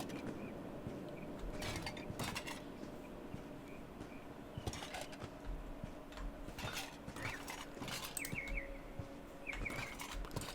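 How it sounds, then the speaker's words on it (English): Small birds chirp in faint, scattered tweets, with a few brief trills toward the end, over a steady low background hum inside the border zone of the game Kenshi. "is that birds I'm hearing out here in the border zone?"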